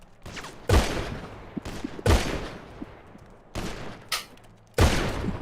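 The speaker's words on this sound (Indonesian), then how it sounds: "Di depan gua nembak." Gunfire in a GTA roleplay game: several loud, sharp shots spaced unevenly about a second apart, each with a short decaying tail, with fainter pops between them.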